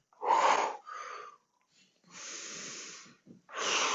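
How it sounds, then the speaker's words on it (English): During a mobility exercise, a person breathes in an exaggerated way, with several loud, forceful exhales and inhales in bursts separated by short pauses, close to the microphone. "If you exaggerate the breathing, you're going to get more action with your diaphragm."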